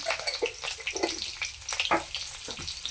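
Cumin seeds and slit green chillies sizzle in hot oil for a homestyle cashew and potato bhaji. The frying hiss is close and steady, with frequent sharp pops and crackles throughout.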